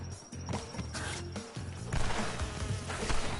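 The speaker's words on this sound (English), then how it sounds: "There's the bees! Not the bees! Not the bees!" Insect buzzing from the bees in Crash Bandicoot N. Sane Trilogy, a continuous droning hum mixed with game music and busy effects, fairly close and steady.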